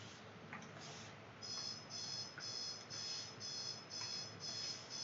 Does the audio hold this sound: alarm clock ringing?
yes